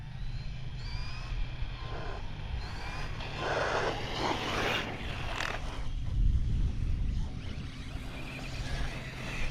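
A Promoto RC vehicle, steered with a Spektrum iXSR transmitter, drives steadily with a continuous electric motor whine over low rumbling, rough bursts of terrain noise midway, and a louder surge near the end, with no talking.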